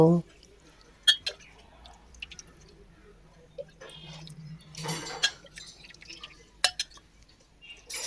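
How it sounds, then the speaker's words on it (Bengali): Water is poured in small, scattered splashes and drips while a small deity idol is bathed, faint and close, with a soft voice talking quietly between the pours. "গোপু বাবাকে স্নান করাচ্ছি লাডলি সোনাকে স্নান করাবো ছোটু বাবাকে স্নান করাবো"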